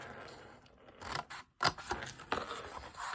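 Scissors snip through cardstock along score lines in several quiet, close cuts, each a short crisp scraping burst separated by pauses, with no talk.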